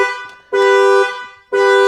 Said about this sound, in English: once the vehicle starts, it will stop the alarm